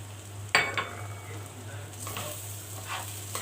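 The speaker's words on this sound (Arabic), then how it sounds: "وهنزل بيها طبعا على الرز وهبتدي اشوحهم" A spoon scrapes and clinks against a pot as rice is stirred with salt, pepper, cumin and chicken stock, with a sharp metallic knock near the start and soft scraping after, faint frying sizzle beneath.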